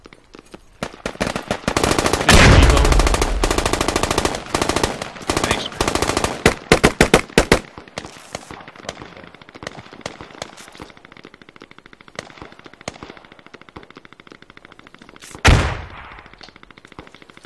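Gunfire in the Squad military video game, with a long close burst of rapid machine-gun fire followed by scattered shots and rattling fire, then quieter distant shots and one last loud blast near the end.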